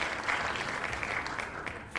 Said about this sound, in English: A little round of applause, please.